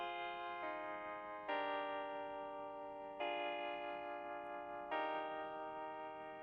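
A melodic trap chord progression plays on a sustained synth pad before any reversal, with four chord changes arriving in a steady, even rhythm, loud and alone without talk.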